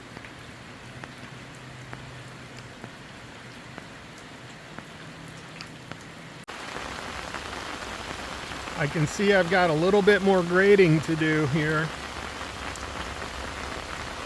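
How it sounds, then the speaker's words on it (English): Heavy rain pours down steadily around a greenhouse build site, a dense continuous hiss throughout that grows louder partway through, with someone talking over it for a few seconds. "It is raining really hard and it is draining out though."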